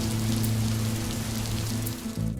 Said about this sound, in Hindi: खिड़की के बाहर हल्की बारिश की बूंदें टप टप गिर रही थीं